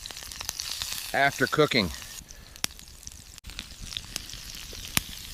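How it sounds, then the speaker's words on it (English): Steak sizzling in a pan as it is basted with butter, garlic and thyme, a soft steady crackle with occasional sharp pops under someone speaking briefly. "Basting the steak in butter with garlic and thyme increases the flavor."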